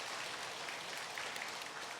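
Church congregation applauding during a Sunday worship service to welcome a newly registered member, a soft, steady patter of many hands clapping at a distance, alone without voices.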